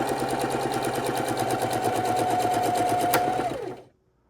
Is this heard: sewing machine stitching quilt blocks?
yes